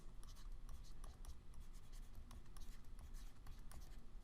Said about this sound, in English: I'm going to go ahead and write PEMDAS